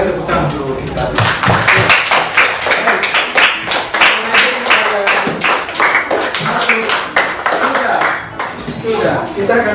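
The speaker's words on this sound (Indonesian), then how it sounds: "Tepuk tangan untuk kita." Students in a classroom clap their hands together, a loud run of sharp, uneven claps that swell and fade in bursts over several seconds, with voices faintly mixed in.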